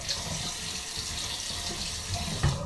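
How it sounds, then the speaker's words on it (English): A bathroom tap runs steadily as hands are rinsed under it, giving a soft, even hiss of flowing water close by with a faint splash near the end and no talking. "Gotta rinse my hands first."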